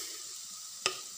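A red pumpkin bhaji with cumin powder, garam masala, coriander powder and salt is stirred in a hot pan: a steady close sizzle, then one sharp clack of the spoon against the pan.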